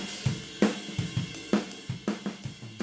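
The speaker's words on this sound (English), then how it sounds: "And our ride mic sounds like this." The ride cymbal microphone from a mixed drum kit in Logic picks up rhythmic drum hits with cymbal wash bleeding through, a steady groove played at moderate volume, with no voices.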